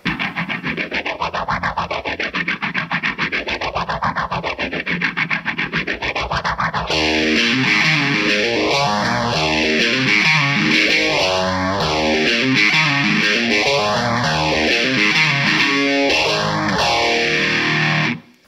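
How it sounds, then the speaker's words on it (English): A heavily distorted electric guitar plays through a Tortuga Standard Issue Phaser pedal, its sweeping whoosh rising and falling in slow, regular waves; it gets brighter and thicker partway through. "here's the sound everybody wants to use a phaser for"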